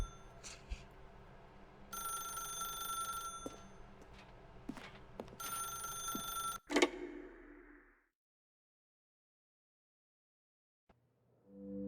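A telephone rings in The Stanley Parable: Ultra Deluxe, a repeated electronic bell-like trill in bursts over a steady room tone, ending abruptly before a near-silent stretch.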